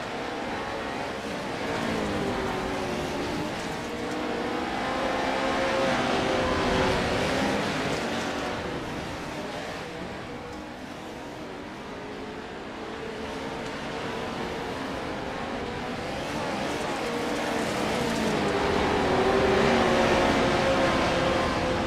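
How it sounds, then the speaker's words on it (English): Simulated race cars lap the Wild West track in an iRacing Pro Lite race, a continuous loud engine drone that swells and fades as the cars run through the corners. "Wygant with a much better exit than Mensch through or out of 4. 5 laps to go"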